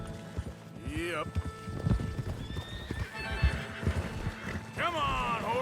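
Horses in Red Dead Redemption 2 trot along with steady clip-clopping hooves and whinny twice, once near the start and again near the end, heard close and fairly quiet, with a voice talking over them.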